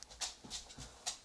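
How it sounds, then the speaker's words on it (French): A dog settles down close behind, making soft panting breaths and faint whimpers in short bursts at a low level, with no one talking. "mon chien vient de se coucher derrière moi"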